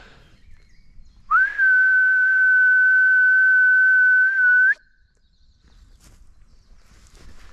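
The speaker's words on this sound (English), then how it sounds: "sorry, I'm gonna whistle again" A person whistles one steady, clear, sustained note for about three and a half seconds. Faint outdoor rustling and footsteps sound before and after it, and no talk is heard.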